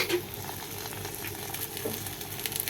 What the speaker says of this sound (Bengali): এবার এটাকে উঠিয়ে দিয়ে আরও একটা লুচি ছেড়ে দিলাম আমি তেলে